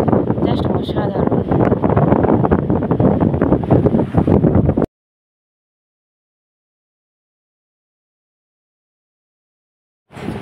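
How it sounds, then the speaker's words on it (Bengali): Strong sea wind at Digha beach buffets the microphone in a loud, rough rumble for about five seconds, then cuts to silence before returning briefly at the end. "সত্যি সমুদ্রের বাতাসটা জাস্ট অসাধারণ"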